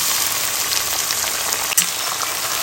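Oil sizzles steadily in a pan as taro stolons (kochur loti) are lightly fried for a vegetarian Bengali dish, giving a continuous bright crackling hiss with one brief clatter partway through.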